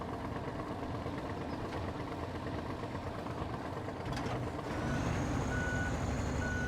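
A tractor in the video game SnowRunner idles with a steady low engine rumble. Near the end the engine swells slightly and a reversing alarm starts up with spaced electronic beeps.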